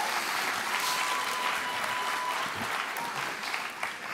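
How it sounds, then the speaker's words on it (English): An audience applauds after Mass with a sustained, dense round of clapping that fills the space evenly before tapering slightly at the end. "So let's give them a round of applause."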